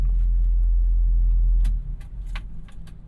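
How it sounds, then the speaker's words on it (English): A small Japanese kei truck engine idles at close range as a steady low hum; partway through it drops off and gives way to light clicks and jangling keys. "Engine so smooth."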